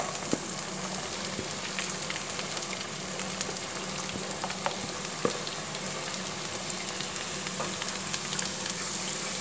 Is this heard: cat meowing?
no